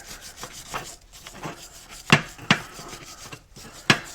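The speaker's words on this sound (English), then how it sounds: "Got me a little wire brush." A small wire brush scrubs rust and corrosion out of the grooves of a brake bracket on a 2011 Impala, with repeated rasping strokes and a few sharp metallic scrapes, up close and with no talk.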